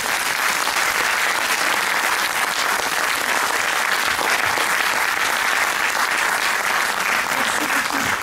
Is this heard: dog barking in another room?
no